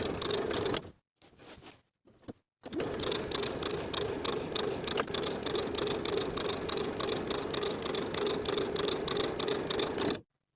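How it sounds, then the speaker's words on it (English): A sewing machine runs in a steady, rattling hum as it stitches a 3/8 inch seam down a pant leg, with a few brief stops near the start before running continuously to the end. "Then start stitching once again at the second dot, backstitching to secure, continuing with that 3/8 inch seam allowance to the bottom of the pant leg"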